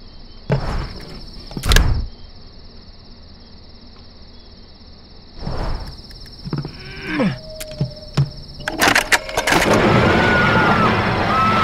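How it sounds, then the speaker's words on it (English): A car engine in the video game Road 96 runs into trouble, giving uneven sputtering bursts and clunks over a steady high insect-like drone, then building into a louder rough roar near the end. "Engine trouble."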